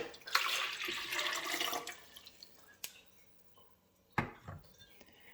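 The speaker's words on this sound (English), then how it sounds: "I've got the nutribullet jug. I'm going to place the water in first." Water poured into a Nutribullet blender jug, a soft close splashing stream for about a second and a half, followed by a quiet pause and a brief final splash and clink.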